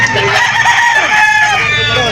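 Hen and roosters at a live chicken auction market in Lipa, crowing and clucking loudly and close, filling the whole short stretch without any speech.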